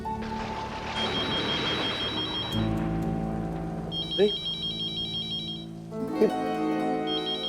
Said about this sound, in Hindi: फोन की घंटी तो यहीं से सुनाई दे रही थी कहीं